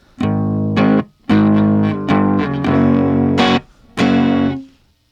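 Fuzzy, saturated electric guitar chords through a germanium fuzz pedal ring out in several bursts with short gaps between them, thick and distorted, played loud and close.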